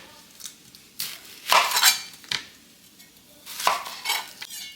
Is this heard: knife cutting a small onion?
yes